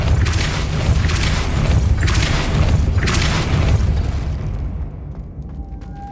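A Depulso spell impact in the Hogwarts Legacy video game, a loud booming blast with a rumbling low end that rolls on for several seconds before fading into a quieter tail.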